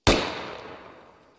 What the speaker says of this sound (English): Engaging. Shooting at sandbags. Firing.